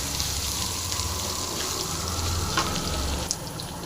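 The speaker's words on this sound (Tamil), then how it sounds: "இப்போது இடித்து வெங்காயம் போட்டுடலாம்" Crushed onion frying in hot tempering oil for a green pea sundal, giving a steady, close sizzle that holds even throughout with a few faint clinks.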